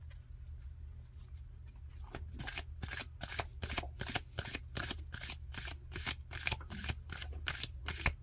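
A deck of tarot-style cards is riffle-shuffled at close range, fast repeated flutters in a steady rhythm after a quiet start, over a low background hum.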